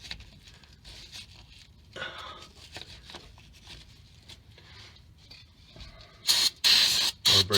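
Brake cleaner sprayed onto a rear ABS wheel speed sensor on a 1990s–2000s Ford F150, with faint scrubbing early and then loud close hissing bursts near the end.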